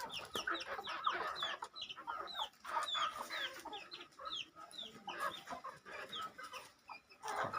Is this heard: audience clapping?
no